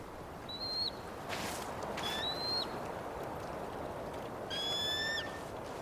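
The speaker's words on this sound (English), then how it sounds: "Hello, Mr. Eagle." Sharp descending bird-of-prey whistles from an eagle in the video game Tell Me Why, three separate cries over steady ambient background noise, the last one layered and strongest.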